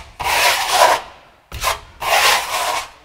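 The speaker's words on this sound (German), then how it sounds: "wirklich eine Spachtelung, die kein Material aufbringt, sondern nur einmal" A trowel scrapes waterproofing compound across the floor of a walk-in shower in long, close strokes. It makes three separate rasping passes with short gaps between them.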